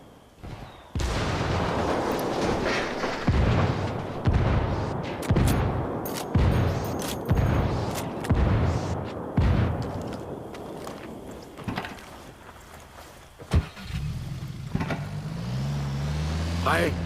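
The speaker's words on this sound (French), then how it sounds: "Je demande un tir d'artillerie." Artillery strikes pounding in Ghost Recon Wildlands, a string of heavy booms and rumbling blasts repeating roughly every second amid engine noise and gunfire, with voices talking over the barrage.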